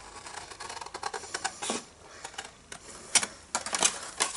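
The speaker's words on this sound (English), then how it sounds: "we want to cut out all of this big section here" Scissors or a blade cut out a large section of patterned paper in a papercraft bag project: rapid, close, crisp snips and crackles come in irregular bursts, with no talking.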